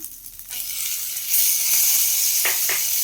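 Onions and tomato frying on a medium flame for a banana stem chutney, a steady broadband sizzle that grows louder partway through, with a couple of brief scraping stirs near the end.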